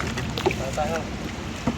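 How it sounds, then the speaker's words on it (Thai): A kayak paddle dips and splashes in the sea a couple of times, with wind and faint voice-like sounds in the background. "พายเรือครับพายเรือ"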